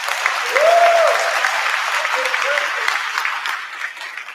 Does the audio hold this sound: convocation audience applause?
yes